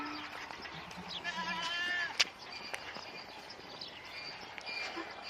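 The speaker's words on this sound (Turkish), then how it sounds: "bunlar bizim keçilerdir arkadaşlar" Goats bleat nearby, a few wavering cries rising over rustling farmyard noise.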